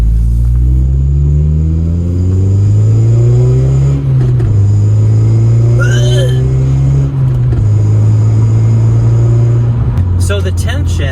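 9th generation Honda Civic Si with a Skunk2 catless downpipe, loud close engine rumbling and revving in repeated rises and drops, with brief voices over it.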